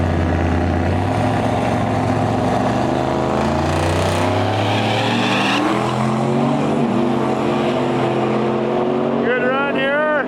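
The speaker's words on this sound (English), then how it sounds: "We got a 4-wheel drive regular cab Silverado pulling up with a 2-wheel drive regular cab Silverado." Two regular cab Chevrolet Silverado pickups, one 4-wheel drive and one 2-wheel drive, launch in a no prep drag race, their engines roaring loud and close, revving and rising in pitch through the run.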